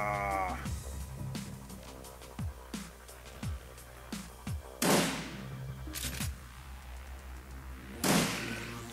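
Gunfire in the turn-based game Shadowrun Returns, a few sharp bursts standing out over a busy bed of thuds and clicks, with two louder cracks later on, moderately near.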